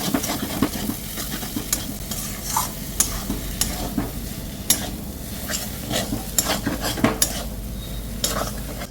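Turmeric, chili, cumin and pepper powders stirred together with a utensil, giving repeated scraping and clinking strokes over a soft sizzling background, close and steady with no talking.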